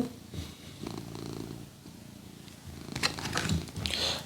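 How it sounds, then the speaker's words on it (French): A house cat purrs in soft, rhythmic rumbling cycles close by, with a few small clicks and rustles in the room and no one talking. "T'es en train de ronronner devant les cartes"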